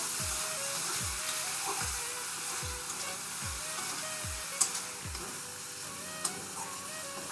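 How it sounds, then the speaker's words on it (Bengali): Mung dal is stir-fried in a pan with whole spices for a Bengali potol dish. A steady sizzle runs under about seven regular, rhythmic scrapes of a spatula, with no talking. "দিয়ে আমি এগুলো ভালো করে এর সঙ্গে একটু কষিয়ে নেব।"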